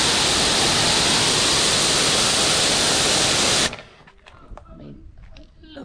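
AA Cherry snow foam sprayed neat onto a car, a loud, steady hiss of spray that cuts off abruptly, leaving quieter handling noises behind.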